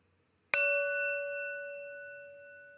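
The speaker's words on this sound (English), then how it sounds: "listen to the sound of the bell" One clear strike of a bell after half a second of silence, a bright metallic ding whose pure tones ring on and fade slowly, alone and close.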